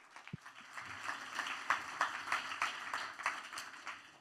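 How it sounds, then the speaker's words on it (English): At a conference talk, an audience gives a round of applause, a modest, thin patter of clapping hands that swells and then holds steady for a few seconds. "can we have a round of applause, please?"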